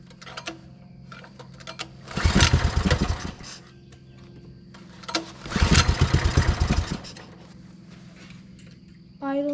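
A small mini bike engine, running with the choke on, revs up in two loud rough bursts of a few seconds each between quieter idle stretches, with voices talking over it.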